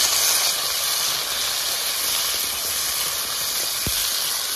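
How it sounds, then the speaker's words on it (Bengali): Potatoes tipped into hot oil already frying cumin seeds, bay leaf and two dried chillies, cooked the village way, giving a steady loud broadband sizzle and hiss throughout with no talk. "এবার দিয়ে দেবো আলু।"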